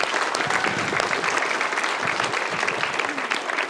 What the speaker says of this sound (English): Round of applause for Ido.